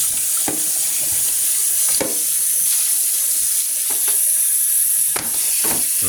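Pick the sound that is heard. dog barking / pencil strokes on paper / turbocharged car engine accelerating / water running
water running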